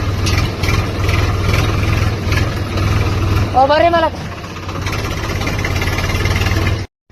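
A vehicle engine idles with a steady, low, continuous hum throughout while someone talks over it, and the sound cuts off abruptly near the end.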